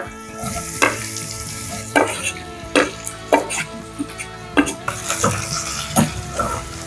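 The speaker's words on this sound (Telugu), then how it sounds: "ఆయిల్ వేడైన తర్వాత ఆనియన్స్ వేస్తున్నా" Onions frying in hot oil in a pan for a green egg masala curry, a steady sizzle punctuated by repeated scraping stirs and utensil knocks roughly every second, close and clear.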